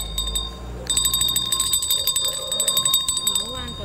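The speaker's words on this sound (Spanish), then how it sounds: "¡Campana!" A round-ending bell in a Spanish-language game show rings in a rapid string of bright metallic strikes, layered over lively talk and studio chatter.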